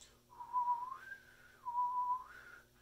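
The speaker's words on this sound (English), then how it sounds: "Moving my lip just like I'm whistling." A person whistles two sustained notes, each gliding upward to a higher pitch, clear and close in a quiet room.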